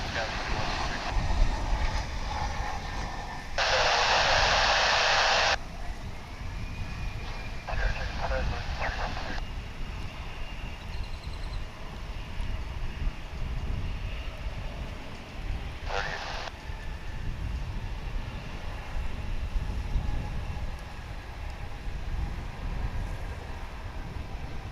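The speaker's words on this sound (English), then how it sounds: "That Sky West plane's coming in from Santa Fe in New Mexico." A SkyWest Mitsubishi 701ER airliner coming in to land at Dallas/Fort Worth International Airport makes a steady, distant jet roar under a broad wash of wind and outdoor noise, with a few brief louder bursts along the way.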